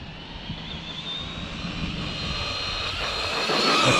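Losi LMT RC monster truck running a Tekin RX4 3300kv brushless motor on 3S with a 15-tooth pinion, at full throttle during a speed run: a steady high-pitched electric whine that climbs and grows louder toward the end, with no talking.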